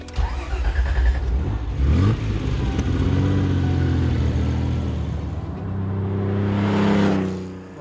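A Ferrari Dino 246 GTS engine revs up loud and close, rising and falling through several throttle blips with a raspy mid-range growl, then settling into a steady, rumbling hold.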